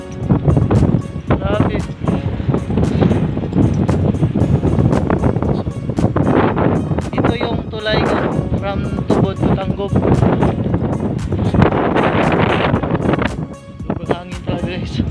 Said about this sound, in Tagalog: Sobrang hangin talaga guys.